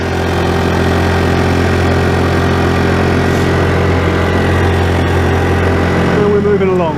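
A small outboard engine runs on an 8 ft plywood boat, a loud, steady close-up drone with a strong harmonic hum that holds throughout, and its pitch shifts slightly near the end. Someone speaks over it.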